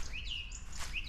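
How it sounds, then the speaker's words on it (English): A song thrush sings from just overhead in spring, giving clear, bright whistled phrases with upward sweeps and a repeated note, close and fairly loud over a low background rumble. "there's a song thrush just above us"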